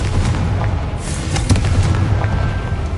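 A Confringo fire blast spell from Hogwarts Legacy erupts as a dense, booming burst, a loud rumbling explosion with crackling fire and scattered impacts that rolls on across the whole moment.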